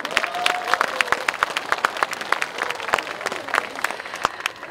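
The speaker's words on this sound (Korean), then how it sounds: "여러분들의 큰 박수와 함께" A crowd claps to open the Mulgeum Station KTX stop ceremony, a lively burst of applause with sharp individual claps standing out, fairly close, with a faint tone lingering early on.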